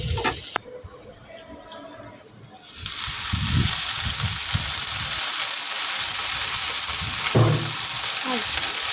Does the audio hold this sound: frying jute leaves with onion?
yes